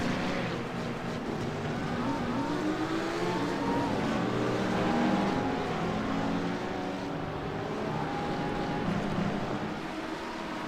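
Prototype and GT3 race cars in iRacing at Aragon, engines droning and whining together at close range, pitch shifting steadily as the cars pass one another throughout.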